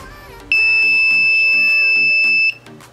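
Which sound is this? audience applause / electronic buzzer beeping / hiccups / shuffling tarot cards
electronic buzzer beeping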